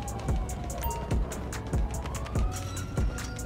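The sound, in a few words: ambulance siren in GTA 5 video game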